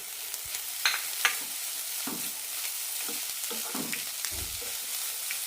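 Crushed masala with jackfruit seeds and egg being sautéed in a pan, giving a soft, continuous sizzle with intermittent scraping and tapping of a spoon stirring the mix, near and with no talking.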